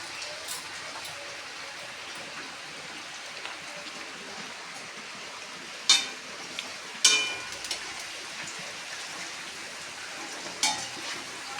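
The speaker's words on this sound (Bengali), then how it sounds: "এই যে বাড়ির পকোড়া তো একটু বড় বড়ই ভাজছি আমরা" Fairly large matar dal pakoras fry in hot oil, giving a steady soft sizzling hiss with a few sharper pops and crackles near the middle and end.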